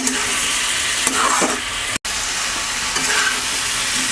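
Katla fish pieces and man kachu (taro) fry in a pan with a loud, steady, close sizzle that runs throughout, broken only by a brief dropout midway and a few soft stirring scrapes.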